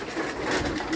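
Domestic pigeons in a village pigeon loft give soft, low cooing that continues throughout, close by and unbroken.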